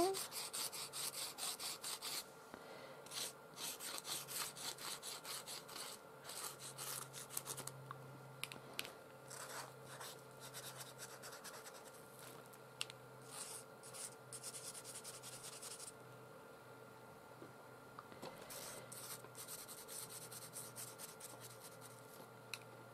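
A pencil sketches on journal paper, giving a quiet, continuous scratching and rubbing with short strokes and brief pauses, faint and close throughout.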